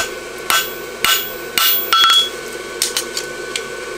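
Ringing hammer blows on an anvil while a horseshoe is forged and shaped, about seven sharp metallic strikes at a steady working pace, loud and close with bright ringing overtones and no talking.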